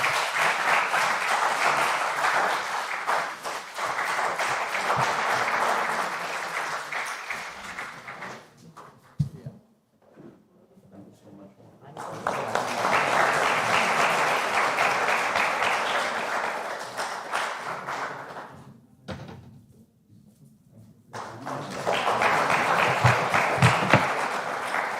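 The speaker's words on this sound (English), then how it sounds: "Ladies and gentlemen, they deserve a big round of applause." An audience breaks into sustained applause, dense clapping that fills the room, briefly dies down twice, then swells back up again.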